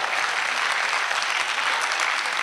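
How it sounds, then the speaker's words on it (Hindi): Audience applause at the 5th Multan Literary Festival 2024, a steady dense patter of many hands clapping throughout, fairly close and even in level, with no talk over it. "बहुत सारी तालियां होनी चाहिए"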